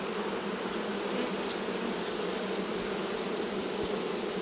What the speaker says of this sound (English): Look at that bunch of bees there.